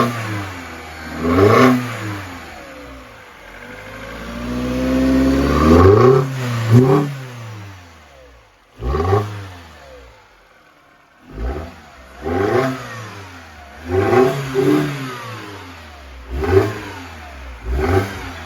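A Mini Cooper convertible engine with a K&N reverse conical air filter starts, then is revved again and again in short bursts, pitch rising and falling between quieter idle moments, close by.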